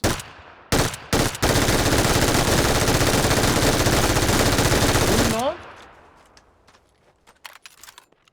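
Sustained automatic gunfire in PUBG, a continuous loud burst lasting several seconds after a few single shots, then fading into scattered distant shots and quiet.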